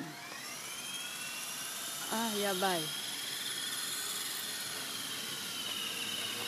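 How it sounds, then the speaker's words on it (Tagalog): A helicopter drones steadily at a distance over a rural house surrounded by bamboo, a constant whirring hum held throughout while a person briefly exclaims in the middle. "Ayan, lumipad na yung helicopter."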